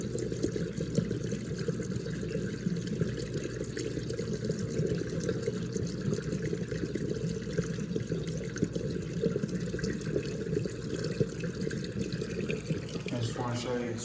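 A Whirlpool dishwasher in diagnostics mode drains water with a steady, continuous rushing wash of liquid, close and unbroken for the whole stretch, with no voices over it.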